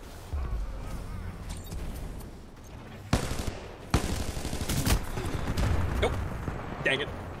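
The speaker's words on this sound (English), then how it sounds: "There's that man again with that spread gun." Spread gun fire in the video game Titanfall 2, rapid bursts of gunfire with sharp loud blasts among weapon noise, while someone talks over the gameplay.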